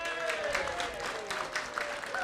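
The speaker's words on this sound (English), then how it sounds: "So a big round of applause for Rudy." An audience at an annual Lions club community awards gathering applauds an honoree with a steady wash of clapping from many hands at moderate volume, while a faint voice or tone lingers beneath it.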